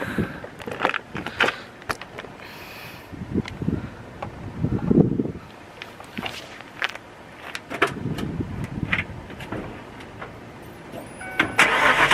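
A Fox-body Mustang engine with BBK shorty headers cranks in repeated bursts and then catches, settling into a running rumble, with wind buffeting the microphone outdoors.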